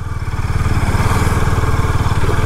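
A Husqvarna Vitpilen 250 motorcycle engine runs close and loud with a steady, rapid low thumping pulse throughout, with no voices over it.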